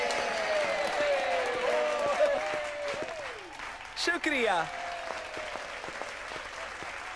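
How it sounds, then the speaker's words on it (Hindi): An audience applauds a newcomer introduced as the new face of a pop act, the clapping a dense steady patter, moderately loud, with someone speaking briefly over it. "इनके लिए तालियां।"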